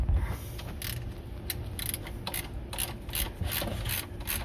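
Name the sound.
small ratchet loosening an oil drain plug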